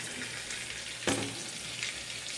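Chicken sizzles steadily as it fries in a pan for fettuccine, with a brief louder burst of crackling partway through and no talk over it.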